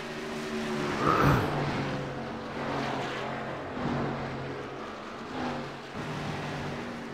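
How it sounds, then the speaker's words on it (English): Race cars circle the Dover track in an esports racing game, their engines a continuous roaring whine that swells as cars pass, with no talk. "We have 9 cars running after Hunter King gets it going again."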